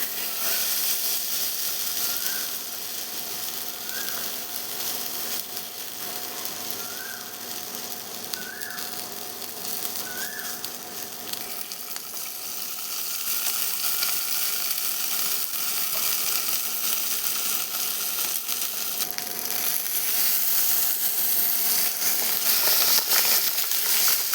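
Fish fries in oil on a hot tawa with a continuous, even hiss and sizzle that grows slightly louder toward the end, heard close with no speech.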